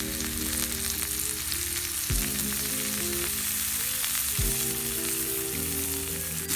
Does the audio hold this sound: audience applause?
no